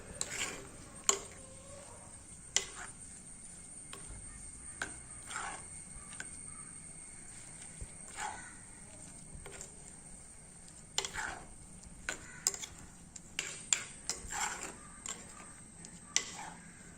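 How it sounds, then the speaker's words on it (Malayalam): A spoon scrapes and knocks against a pan while ground coconut is mixed into Kerala-style cucumber pachadi, giving irregular clinks and taps over a quiet background. "എന്നിട്ട് നന്നായി മിക്സ് ചെയ്യാം"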